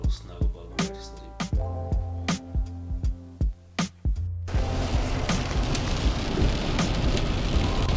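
Heavy rain from a rainstorm directly overhead: sharp, irregular thumps in the first half give way to a dense, steady roar of rainfall that lasts to the end.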